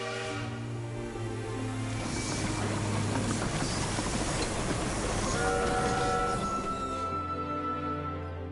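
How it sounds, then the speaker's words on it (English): A toy-like choo-choo train in the video game Infinity Nikki gives off a steady, loud rumbling hiss with sustained tonal hums that swell briefly before trailing off, heard alone without speech. "Madame Julie is on the choo-choo train"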